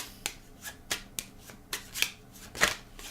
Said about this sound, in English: Alright, we're just shuffling up cards